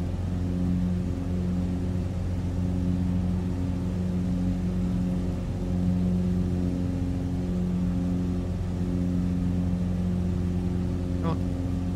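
Steady droning aircraft engine in Microsoft Flight Simulator, a bush plane at Unalaska airport, holding a constant hum with a slight rise in throttle, continuous and close throughout.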